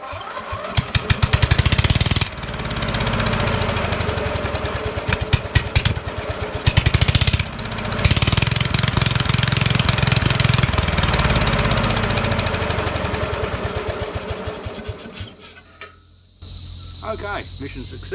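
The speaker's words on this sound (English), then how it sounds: "the engine runs. And it actually sounds quite good, although there's no muffler on it at this stage" A lawn mower engine with no muffler fires up and runs loud and rough, with sputtering bursts early on settling into a steady raw drone, then cutting off near the end.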